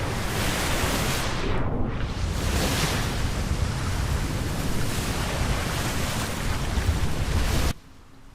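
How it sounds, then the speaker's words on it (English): Loud, steady wind and rolling ocean surf from the seafaring video game Atlas fill the scene without pause, a broad roar with no voices, then cut off abruptly near the end. "Wind and waves were too loud."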